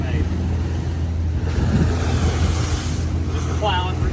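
An old trawler with its stabilizer birds deployed ploughs through rough Gulf water. The engine drone, splashing waves and strong wind buffeting the microphone run steadily throughout at high level.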